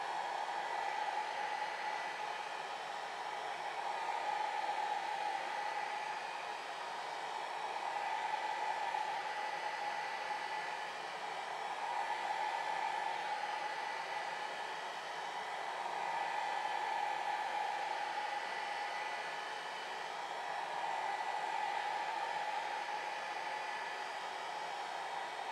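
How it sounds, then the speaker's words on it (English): A hair dryer runs steadily, blowing across alcohol ink on paper while being moved slowly in circles; a constant close, loud airy whoosh with gentle periodic swells in level. "never pointing my dryer towards the alcohol, it's always pointing outside"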